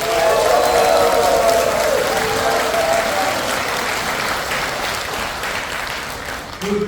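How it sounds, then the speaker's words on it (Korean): An indoor audience at a political party district meeting breaks into applause, loud at first and gradually thinning out over several seconds. "박수 한번 주시죠."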